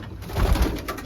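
Racing pigeons coo in a loft, a close, low, throaty burble that swells briefly and fades.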